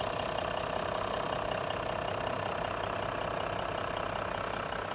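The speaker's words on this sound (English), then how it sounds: "Nice sound from the engine." A steady, unbroken Toyota Land Cruiser 100-series diesel engine idle, a constant low rumble and hum that holds even and loud throughout with no revving.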